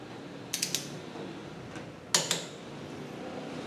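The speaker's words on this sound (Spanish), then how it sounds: "buscamos en el torquímetro y de esta forma le vamos a dar el torque correspondiente" A click-type torque wrench clicks as the hydraulic brake caliper hose fitting is tightened, with two quick bursts of sharp metallic ratchet clicks set apart by a pause against quiet workshop background.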